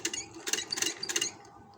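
A sewing machine stitching gathered fabric for a gharara, running in short quick bursts of mechanical clatter, close and fairly quiet, stopping and restarting several times.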